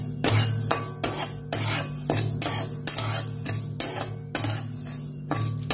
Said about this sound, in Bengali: আগে এভাবে নাড়তে থাকবো, চিনি আর চা পাতা একসাথে ভালো করে নিয়ে নিলে গলিয়ে একটা লাল ক্যারামেল তৈরি করে